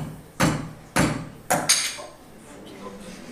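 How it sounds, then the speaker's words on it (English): A hammer strikes material samples at an engineering open day, with four sharp impacts spaced roughly half a second apart, the last two close together, and faint background murmur between hits. "we're going to hit them with a hammer"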